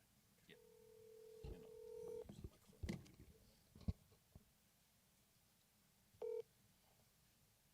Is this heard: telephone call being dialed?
yes